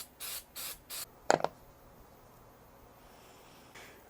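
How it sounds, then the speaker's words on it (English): Three short hissing bursts of super glue activator spray at close range, evenly spaced, on the back of a custom guitar body, followed by a few faint clicks and quiet room tone. "I want this to go quick, so I'm going to use super glue. Let's hit the back of this with some activator."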